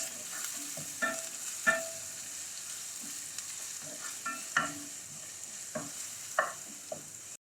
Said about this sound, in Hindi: अदरक लहसुन के पेस्ट को प्याज के साथ अच्छी तरह से 1 मिनट भून लेंगे